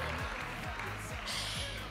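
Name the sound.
audience applauding the three top graduates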